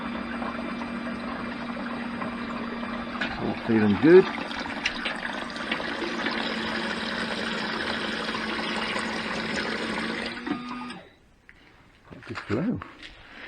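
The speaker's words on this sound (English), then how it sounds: "Running water." Water runs steadily from the tap in a Fiat Ducato campervan conversion while the water pump hums underneath for about ten seconds, then cuts off; someone speaks over the flow.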